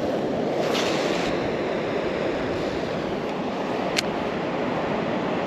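Continuous wind rushing outdoors by a waterfall, a broad steady roar that stays even throughout, with a brief gusty buffet near the start.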